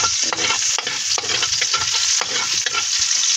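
Garlic sizzles loudly in a hot oiled pan, a dense continuous frying hiss broken by quick stirring scrapes, heard close with no talking.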